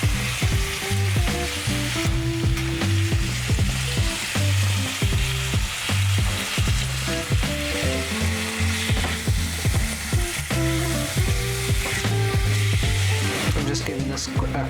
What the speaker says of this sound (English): Just want to brown this up a little bit